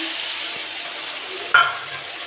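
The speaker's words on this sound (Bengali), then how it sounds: "পেঁয়াজটা লাল লাল ভাজা হয়ে গেছে, মশলাটা দিয়ে দিচ্ছি।" Spices hit reddish-fried onions in a pan while an oil-free fish curry cooks, giving a steady close sizzle with a brief stir or clatter midway.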